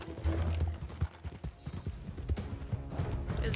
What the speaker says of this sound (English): all of my horses are acting up